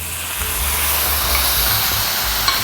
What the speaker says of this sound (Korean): 물을 살짝 이렇게 넣어주세요.